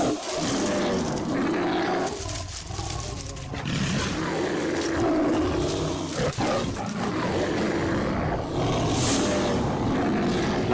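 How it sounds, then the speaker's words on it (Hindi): A tiger roars repeatedly in a crime-drama sound effect, with loud, dense, sustained rumbling and snarling layered over a thick, noisy backdrop throughout. "ये तो बाघ की आवाज है।"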